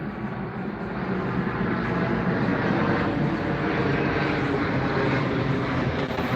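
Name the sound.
airplane flying overhead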